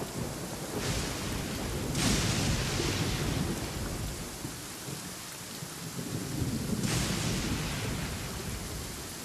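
A rainstorm in Genshin Impact pours down steadily, a dense hiss of rain on surfaces broken by two rolling thunder claps, one near the start and a stronger one later on.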